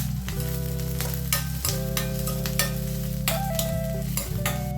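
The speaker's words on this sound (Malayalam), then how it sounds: "നമുക്ക് വേണമെന്നുണ്ടെങ്കിൽ ഉപ്പിട്ടിട്ട് വഴറ്റിയെടുക്കാം കേട്ടോ" Vegetables sautéing with salt in a pan for a home-cooked stew give a steady, close sizzle with occasional stirring, heard beneath background music.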